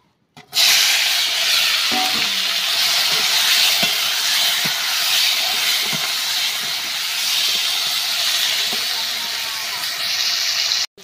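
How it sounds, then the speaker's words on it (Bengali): Pointed gourd (potol) pieces fry in hot oil with a loud, steady sizzling hiss that runs throughout and cuts off abruptly at the end. "পটলগুলোকে এখন আমি ভেজে নেব।"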